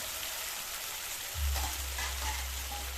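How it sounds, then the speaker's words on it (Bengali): Elephant apple (chalta) sour curry being stirred in a pan, a steady soft sizzle and bubbling with a brief louder stir after the lid comes off, close and alone. "খুলে একটু নাড়াচাড়া করে দিলাম।"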